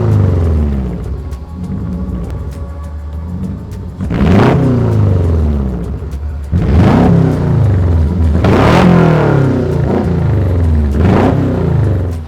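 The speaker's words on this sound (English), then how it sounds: "he's agreed to fire it up for us so we can hear what it sounds like" A Porsche 906 race car with factory megaphone exhaust idles loudly and roughly, then is blipped in several sharp, rising revs that fall back to a burbling idle, all heard close up.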